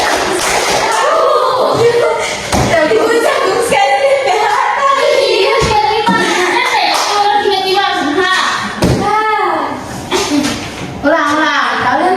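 A group of schoolchildren claps in scattered sharp bursts, mostly under ongoing talk and voices, with a few claps standing out clearly.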